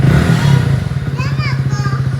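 A motorcycle being started at home chugs into a steady, rhythmic idle, its rapid thumping pulses close and clear, while a voice briefly talks over the start.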